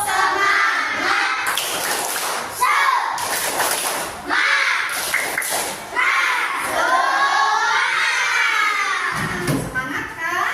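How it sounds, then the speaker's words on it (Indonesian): Classroom of children chanting a rhythmic spirit clap-chant together, loud and close, with overlapping young voices shouting in bursts and sharp hand claps punctuating the chant. "Coba kita tepuk semangat."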